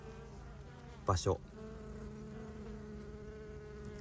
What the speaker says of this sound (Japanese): 働き蜂たちが花粉と蜜を取りに入り口を出入りしています。